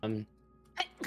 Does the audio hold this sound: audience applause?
no